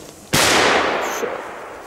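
A single sharp Belgian firecracker bang outdoors, loud and close, followed by a rushing echo that slowly fades.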